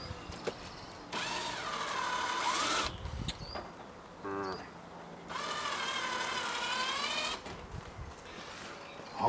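A power drill bores holes in a Mitsubishi Delica L400 while a snorkel is fitted, running in two long whining bursts with a few short spurts and clicks between them, close and loud.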